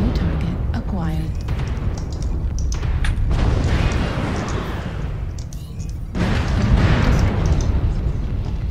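Heavy mech weapons fire in a MechWarrior battle, with a Timberwolf firing booming, sustained bursts in two long waves, loud and close over steady mechanical rumble while a player talks.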